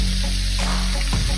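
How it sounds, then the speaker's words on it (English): Rabbit meat frying in a pot, a steady close sizzle with a constant background hum and a few soft clatters. "we fry it inside here"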